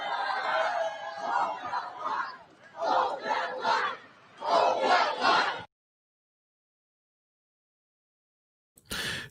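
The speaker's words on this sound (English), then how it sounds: "The crowd was literally chanting, hold the line, hold the line" A large political rally crowd chants "hold the line" in loud, rhythmic surges of massed voices, three swelling bursts that stop abruptly into silence before another short burst of crowd noise.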